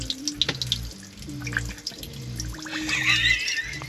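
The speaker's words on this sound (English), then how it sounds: "Every time you run the water, you get that." Water runs from a tap into a small sink aboard a boat moored at Puerto Calero, a steady close splashing and trickling stream with gurgling drips and a rising rush toward the end.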